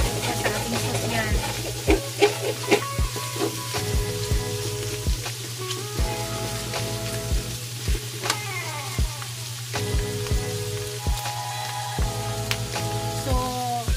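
Onions and garlic fry in a pan for a carbonara pasta sauce, a soft sizzle with scattered clicks of stirring, largely covered by loud, rhythmic background music.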